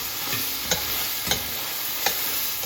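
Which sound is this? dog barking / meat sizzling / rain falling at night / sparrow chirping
meat sizzling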